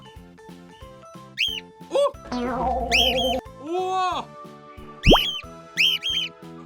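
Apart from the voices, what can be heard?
parrot calls played from phone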